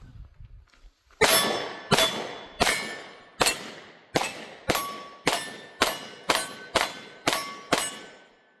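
A Springfield Hellcat Pro Comp pistol fires eleven sharp, loud shots in a steady string, each crack ringing briefly before the next, after a short quiet start.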